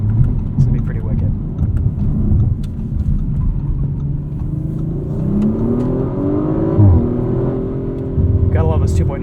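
A 2023 Audi RS5 Competition coupe with a 2.9 liter V6 accelerating from inside the cabin, its engine drone swelling and climbing through the revs, loud and steady, with someone talking over it.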